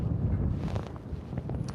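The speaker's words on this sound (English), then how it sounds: "It's a bit windy." Steady low rumbling wind buffets the microphone throughout, a continuous blustery roar with no voices.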